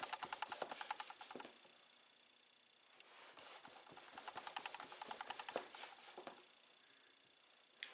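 Knife sawing back and forth through tough sweet potato slices, bursts of rapid scraping rasps separated by brief pauses, close and fairly quiet.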